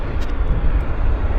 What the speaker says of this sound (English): Air India's starting engines.